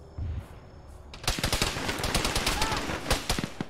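Rapid automatic gunfire from a ShackTac Arma infantry battle, dense bursts of close shots and cracks running continuously after a brief quieter opening.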